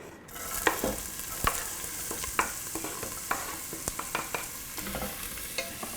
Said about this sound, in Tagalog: And I am gonna drop in my onions and my garlic.